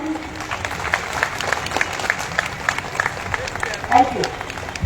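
An audience at a political gathering in Krishnanagar claps in a brisk scattered patter that rises briefly near the end, while a person speaks over the applause.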